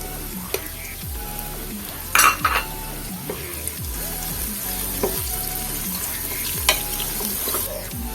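Garlic and onion sautéing in a pan for Filipino bopis, a steady sizzle with intermittent scraping and stirring clinks of a utensil against the pan, close and alone with no talk.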